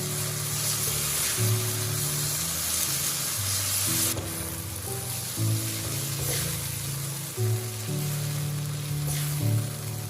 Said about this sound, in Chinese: 再把白玉菇加进来，继续翻炒均匀，把白玉菇炒软